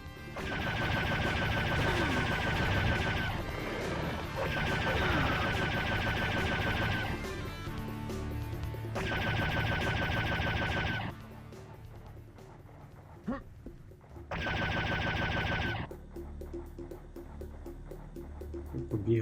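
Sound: gunfire from Serious Sam Classic video game

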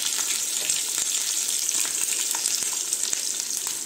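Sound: peanuts and green chili sizzling in tempering for Indori poha

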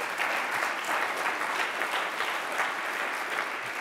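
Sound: audience applause

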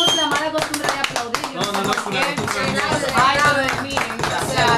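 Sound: audience applause

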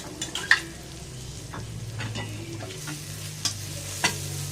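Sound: stir-frying dried chilies for beef pad kaprao

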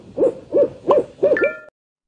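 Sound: owl hooting in a forest

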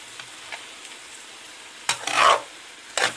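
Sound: green beans stewing and being stirred in a pan

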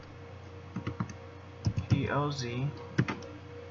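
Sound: typing on a computer keyboard

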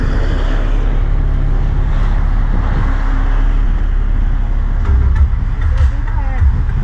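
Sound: car engine running

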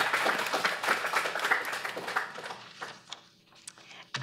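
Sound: audience clapping

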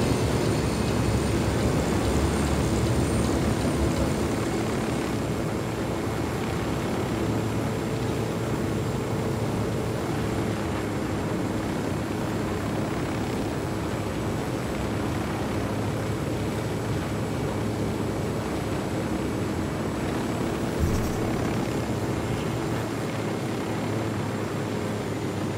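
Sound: helicopters approaching in the video game Ghost Recon Wildlands

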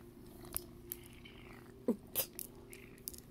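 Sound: orange cat purring and chewing

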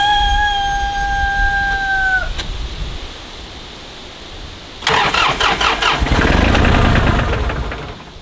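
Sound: tractor engine cranking and failing to start

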